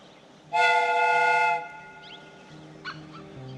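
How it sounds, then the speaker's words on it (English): A steam whistle in Sherlock Holmes: Crimes and Punishments blows one loud, steady, piercing tone for about a second, then fades into a low mechanical hum with faint clanks. "The steam whistle is ready to be used."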